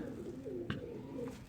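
A sturdy-bodied pigeon coos softly, a low murmuring call held through the moment, with a faint click partway through and no speech.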